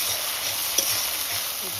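A spice paste of grated onion with ginger-garlic paste and black cumin sizzles in a pan as a little water goes in, giving a steady bright hiss with a brief spatter, close and moderately loud, with no talking.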